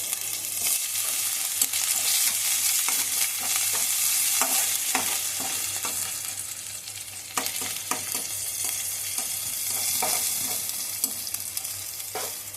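Mixed vegetables stir-fried with green chilli in a pan for fried rice on lowered gas, producing a continuous hissing sizzle with repeated spatula scrapes and taps at an even pace, no voices.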